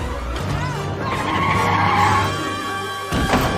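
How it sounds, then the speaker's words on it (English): Tires squeal and skid loudly through a car chase scene in Indiana Jones and the Dial of Destiny, a sustained wavering screech over engine rumble, with a sharper burst near the end. "So now we've got the obligatory car chase scene."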